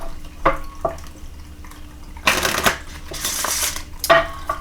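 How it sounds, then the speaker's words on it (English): Tarot cards are shuffled in several bursts of crisp riffling and flapping, close up and separated by short quiet gaps, with no talking. "I'm going to go ahead and shuffle out the cards"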